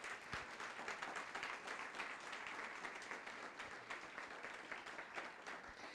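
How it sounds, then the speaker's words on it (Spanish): A church congregation applauding during a sermon, a dense, continuous wash of clapping that sounds fairly distant and soft throughout. "Dele ese aplauso al Rey de Gloria."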